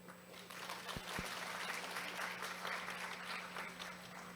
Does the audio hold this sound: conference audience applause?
yes